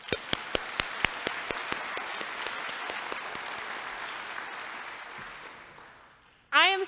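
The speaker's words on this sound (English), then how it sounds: "Let's give them all a round of applause." Audience applause for alumni volunteers at the 2022 Math Prize for Girls welcome event, starting with a few sharp distinct claps that swell into a broad steady round of clapping, tapering off before a voice begins at the end.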